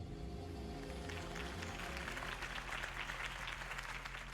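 Crowd applause swells into a dense patter of many hands clapping after a campaign speech in a Batman video game, moderately loud and continuous over a low droning background.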